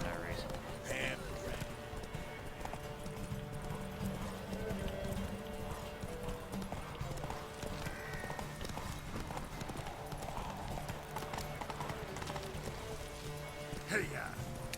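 A horse gallops with rapid, steady hoofbeats during a race in the video game The Witcher 3, faint and continuous, with a voice talking over it.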